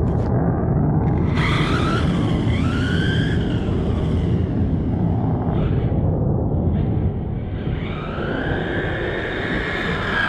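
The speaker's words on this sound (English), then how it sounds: "We've got some planes overhead, so sorry about that for the audio for headphone wearers." Airplanes pass overhead during an outdoor speed run with Pinecone Models SG 1606 Pro and SG 1604 1/16 scale RC cars, giving a loud steady rumbling roar with rising and falling whine tones across the whole stretch.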